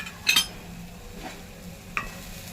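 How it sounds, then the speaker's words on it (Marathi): Malvani masala, coriander powder, turmeric and garam masala are stirred in a pan for Konkani-style stuffed brinjal, with a few quick utensil scrapes and clinks over a soft sizzle. "सगळं घालून परतून घेऊया"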